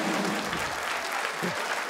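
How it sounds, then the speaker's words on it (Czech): Audience applause at a comedy show, a brief steady wash of clapping from the crowd, moderately faint and continuous throughout. "A je většinou potlesk"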